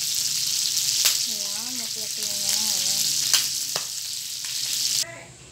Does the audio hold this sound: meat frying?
yes